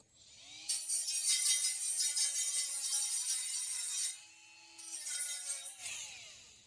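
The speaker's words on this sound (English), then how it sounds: "I'm going to take this little grinder." A small handheld grinder working on a steel trailer main frame, whining loudly in two bursts of several seconds each with a brief quieter spin-down between, no voices.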